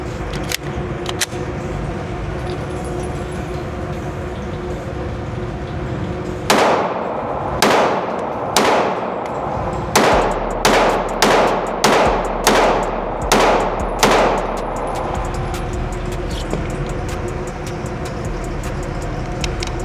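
TriStar APOC Compact 9mm pistol fired at a shooting range: a few sharp cracks, then a rapid string of about ten loud, closely spaced shots over a low background rumble.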